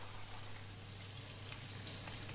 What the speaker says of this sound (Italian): noi andiamo a friggere il riso facendo così